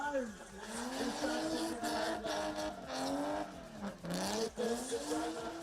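Drift car on its qualifying run at the Southeast Asia Drift Series round in Indonesia, engine revs climbing and falling in waves with tire squeal, heard behind a commentator.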